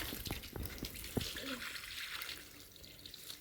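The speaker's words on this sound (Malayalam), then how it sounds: "ചെടിക്ക് വെള്ളം ഒഴിച്ചിടാം ഗൈസ് എന്നിട്ട് ഗൈസ് ആ വീഴുന്ന പൈപ്പ് അടിച്ചിട്ട് വെള്ളം ഒഴിച്ചിടുന്നു" Water running from a pipe onto potted plants, a steady broadband splashing rush with a few brief knocks near the start, fairly close and continuing throughout.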